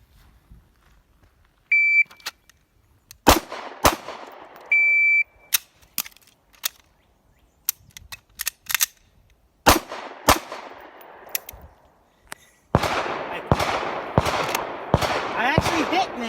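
Beretta PX4 pistol firing a timed 7-yard drill, sharp loud shots in quick bursts with short pauses, a couple of timer beeps near the start, and a denser rapid string of reports toward the end.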